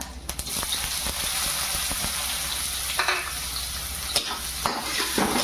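Cumin seeds, curry leaves and onion drop into hot oil and crackle in a loud, continuous sizzle. A few sharp clinks and stirring taps sound close by over the hiss.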